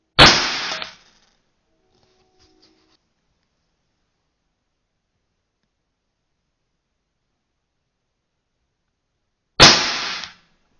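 An American-made airgun that fires arrows lets off two sharp, loud shots, one at the start and one near the end, each a hissing burst of released air, with near silence between them.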